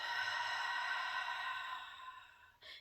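A deliberately exaggerated, deep exhale of breath: a long, breathy rush of air, close and soft, fading gradually over about two and a half seconds, followed by a brief quick intake at the end.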